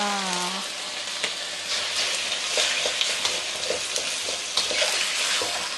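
An egg sizzles and crackles in a hot pan with pork for Thai fried rice, with steady frying hiss and occasional stirring scrapes and clinks, close and continuous.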